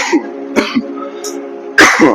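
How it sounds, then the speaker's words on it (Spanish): Repeated coughing and throat clearing from a man with a lingering, month-long cough, a few short harsh bursts followed by a louder, longer cough near the end, close and loud, with no speech. "pero voy a cumplir un mes con esta tos"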